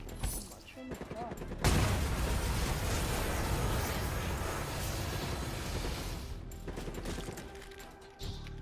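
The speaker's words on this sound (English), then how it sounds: "Explosion." A long roaring explosion in Call of Duty: Black Ops III's Nightmare zombies campaign, a sudden loud burst that sustains as dense rumbling noise for several seconds before cutting off, with mechanical clatter around it.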